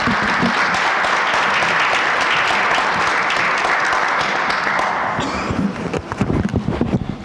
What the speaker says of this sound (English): Let's give a warm round of applause to Reverend Roundtree